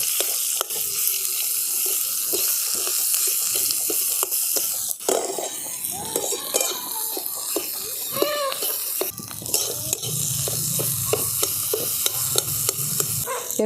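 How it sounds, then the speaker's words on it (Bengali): Boiled potatoes are broken up with a metal spatula in a pan, giving repeated close scraping and tapping strokes over a soft sizzle. "একটা খুন্তি দিয়ে এরকম করে একটুখানি ভেঙে দেবো"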